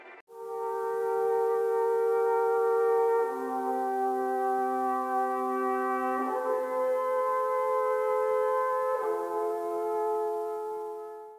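A truncated classical music sample taken from a cassette and played on a Roland SP404, sustained tonal chords that shift pitch every few seconds in a smooth, looping ambient wash, with no talk.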